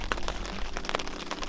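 Constant rain patters on a tarp over a hammock camp in the snow, a dense irregular spray of close drops and taps with no voices.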